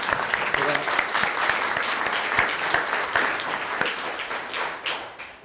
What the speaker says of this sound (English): I think we should give you a round of applause for that